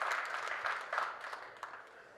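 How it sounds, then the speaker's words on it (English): A crowd at a 9-ball pool match at the 2022 Derby City Classic gives a brief round of applause. The clapping sounds moderate and somewhat distant and fades toward the end. "we'll get a little applause here, I'm sure, from the crowd"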